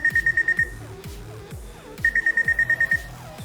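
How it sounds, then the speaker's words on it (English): Two loud electronic buzzer bursts of rapid repeated beeps, each lasting under a second, separated by a pause, with background music throughout, signalling the start of a floor core workout exercise. "So when the buzzer sounds"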